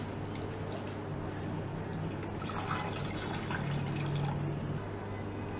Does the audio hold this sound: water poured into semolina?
yes